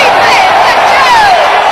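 Stadium crowd roaring at an Atlanta Falcons game in the Georgia Dome, a loud, dense, sustained cheer with whoops rising above the wash, all in a short burst.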